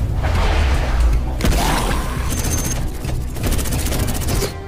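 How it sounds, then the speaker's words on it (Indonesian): Loud sniper rifle shots crack amid whooshing, booming action effects and a dense, busy background in an animated fight against aliens. "Zero di sini menggunakan snipernya untuk menjatuhkan para alien."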